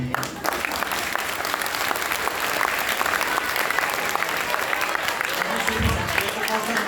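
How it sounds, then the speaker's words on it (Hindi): A crowd at a religious discourse applauds steadily, a dense continuous clatter of clapping from a sizable audience that carries through the whole stretch. "खुल के तालियां आन दो थोड़ी।"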